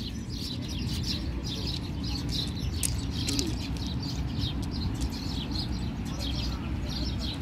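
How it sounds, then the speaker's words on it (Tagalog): Birds chirp and tweet in repeated short calls above a dense, steady rumble of background noise, moderately close and continuous, with no clear pauses. "Pakinggan muna natin yung ano, huni ng ibon."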